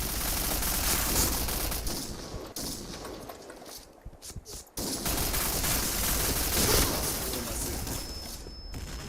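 Barrett M82A1 sniper rifle fire in the shooter game Point Blank, heard amid dense, loud, continuous in-game gunfire and battle noise with a short lull partway through.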